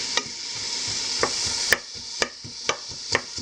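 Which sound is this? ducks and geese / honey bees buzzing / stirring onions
stirring onions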